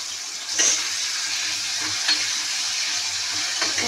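Tomato, green chili and onion frying together in a pan, a steady close sizzle running throughout with a few soft stirring scrapes and clinks.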